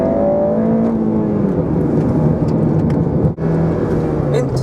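Honda Civic Type R FN2 with a K20 engine and Japanese-model header accelerating hard, a loud rising engine whine with a brief drop at a gear change, heard close from inside the car.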